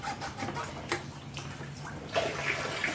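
Coolant drains from the radiator of a 2015 Lexus RC350 into a drain pan, a soft trickling water sound with faint splashes at close range and brief low voices nearby.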